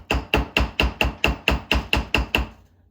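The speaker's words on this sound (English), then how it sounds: "so I will quickly hammer" Ten quick, evenly spaced metal hammer strikes flatten a wire-wrapped earring frame, sharp close taps at a steady rhythm that fade out near the end.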